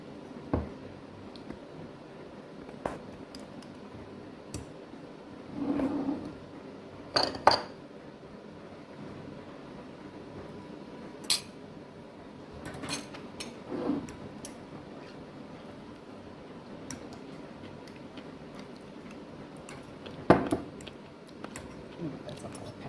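A spoon scoops spicy dill pickles out of a glass jar, giving scattered wet squelches and several sharp clinks against the glass at close range, with quiet pauses between them.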